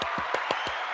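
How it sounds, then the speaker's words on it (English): A short burst of scattered clapping from a small group, close by, with a few distinct hand claps standing out. "little applause for Grace's hair"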